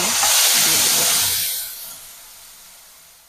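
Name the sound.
ground green chili, onion and garlic paste frying in hot oil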